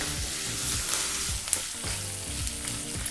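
Curry leaves and salt crackle and sizzle in hot oil as a tempering for gooseberry rice is mixed in the pan, a close, steady frying hiss with scattered pops and scraping stirs.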